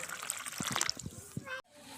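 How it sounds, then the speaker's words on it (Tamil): Water is poured steadily into a pot of potatoes on the stove, a close, trickling and splashing stream that stops abruptly near the end, with faint kitchen background. "உருளைக்கிழங்கு வேக வைக்கிறதுக்கு தண்ணி சேர்த்துக்கலாம்."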